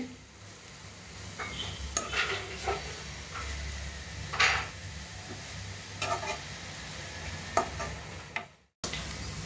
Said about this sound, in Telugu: స్టవ్ సిమ్లో పెట్టుకొని నిదానంగా వేపుకోవాలండి